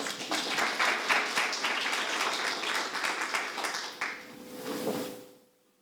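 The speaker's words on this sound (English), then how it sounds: "our guests with applause." Audience applause welcoming guests at a Finnish government procurement digitalisation event: dense, steady clapping from a room full of people that fades away at the end, with a faint hum beneath.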